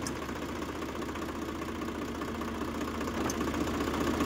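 A Swaraj tractor engine run hard at full throttle gives a loud, steady, close diesel roar with a dense knocking texture that holds unbroken from start to finish.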